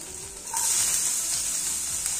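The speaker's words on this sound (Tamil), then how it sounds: "ஜிஞ்சர் போட்டுக்கலாம்." Ginger and garlic drop into about two spoons of hot oil and sizzle steadily, the frying growing louder after a moment and continuing as a bright, close hiss.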